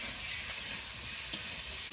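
Green peas frying in a pan, a faint steady sizzle and hiss with a brief stir-like scrape partway through.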